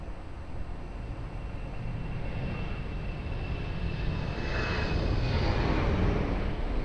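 An aircraft lands on runway 02 at Lisbon Airport: a steady, broad engine roar that swells gradually and grows loudest near the end, with no voices.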